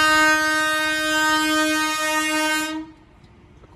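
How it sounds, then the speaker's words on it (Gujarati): A freight train rolls past at a railway level crossing, its loud sustained horn blaring steadily with strong tones before cutting off abruptly, leaving faint rumbling background noise. "માલગાડી છે આ ભાઈ."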